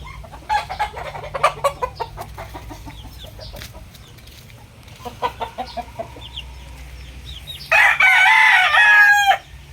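A six-month-old Kelso gamefowl rooster crows loudly near the end after a stretch of clucking and chirping calls, with other fowl sounding off intermittently close by.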